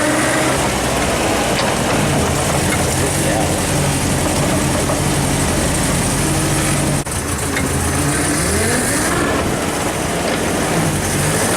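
A 1964 Land Rover diesel engine running on its first drive since 1991, a loud steady rumble that fills the whole stretch with no break.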